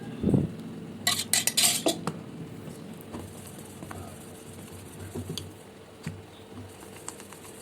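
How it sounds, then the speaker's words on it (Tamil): Drumstick leaf paste stirred into dosa batter in a bowl, with a cluster of loud utensil scrapes and clinks early on, then softer wet squelching and occasional taps, close and alone. "அரைச்ச அந்த விழுதை நம்ம தோசை சுடுவோம் இல்லையா, அந்த மாவில் மிக்சிங் பண்ணி நல்லா கலக்கி வச்சுக்கணும்"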